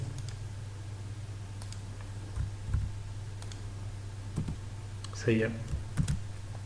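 Soft, sparse keyboard key presses while entering AutoCAD commands, a few scattered taps over a steady low hum, with a brief voice speaking near the end.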